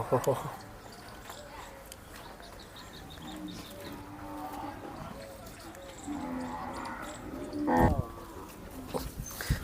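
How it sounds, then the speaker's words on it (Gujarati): Cows at a Gujarati gaushala holding about 1,250 cattle, with a few moos rising over a busy, crowded background while someone talks throughout. "આ તરફ પણ ગાય આ તરફ પણ ગાય અને આ બાદ પર ગાય જોઈ લો"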